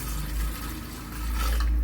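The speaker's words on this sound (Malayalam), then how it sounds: "പച്ചവെള്ളം" Plain water pours steadily into a pressure cooker holding soaked chickpeas, salt and a little coconut oil, a continuous close splashing gush with no talk.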